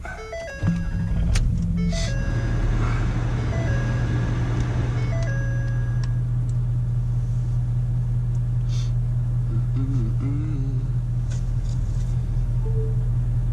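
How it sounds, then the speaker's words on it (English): A truck engine turns over and catches, settling into a steady low idle rumble, with a few faint electronic beeps and tones from a Kenwood DNX-574S head unit booting up over it. "I'm going to turn the truck on for you"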